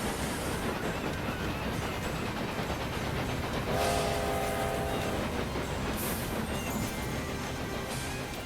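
Trains running in Railway Empire 2, a steady rumbling rail bed with a brief tonal horn-like note midway, continuous and moderately loud with no talking.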